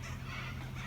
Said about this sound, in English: And these birds, they're still going.